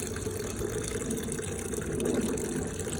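Pond water pours steadily into a homemade steam water filtration setup, giving a continuous, moderately loud gushing and splashing that lasts throughout with no talking.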